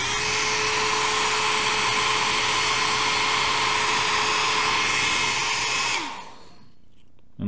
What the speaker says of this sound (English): This hair dryer heats up real well.